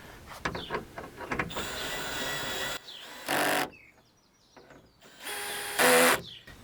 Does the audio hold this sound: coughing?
no